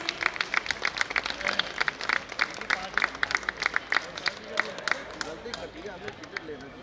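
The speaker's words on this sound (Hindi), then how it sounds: "तालियां एक बार प्लीज।" A crowd at a conference claps for several seconds, scattered sharp claps forming a lively round of applause that tapers off near the end.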